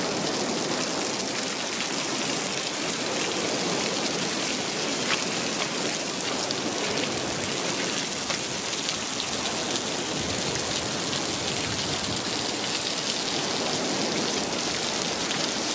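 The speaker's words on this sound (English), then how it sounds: "As you can hear, there's another waterfall here." A waterfall on the northern coast of West Somerset pours in a steady, broad rushing hiss, close and constant with no talking over it.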